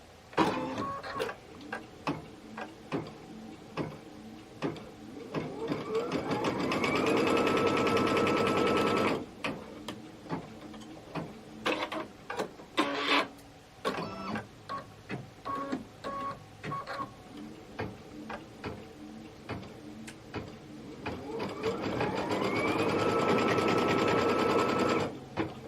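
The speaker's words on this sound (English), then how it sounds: "now we're going to stitch our window placement line" A sewing machine threaded with white thread stitches a window placement line on a quilted project, running in short bursts and then in longer sustained runs, close and steady with no talking.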